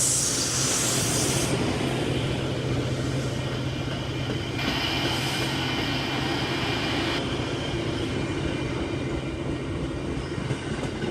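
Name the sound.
train passing on railroad tracks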